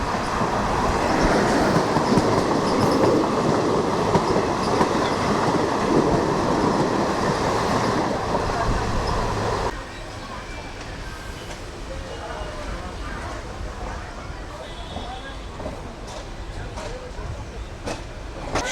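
A passenger train of the Azimganj–Howrah route rolls along with a steady, loud clickety-clack and rumbling wheels, dropping to a softer level halfway through; faint talk sits under the noise.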